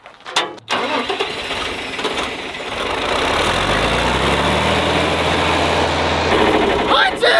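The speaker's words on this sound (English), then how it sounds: "let's hook up a disc to this big tractor and get to work." A big farm tractor's engine cranks and catches, then settles into a loud, steady, rumbling idle that carries on for several seconds after a few sharp clunks at the start.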